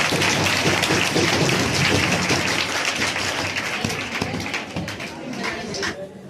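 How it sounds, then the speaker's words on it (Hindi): A crowd claps steadily and densely throughout a student felicitation ceremony at a coaching centre, sustained applause that fades slightly toward the end. "ताली बजाइए आप लोग"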